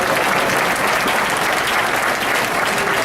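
Audience at a Princess Boy event in Spokane breaking into sustained, dense applause, loud and continuous throughout with no break.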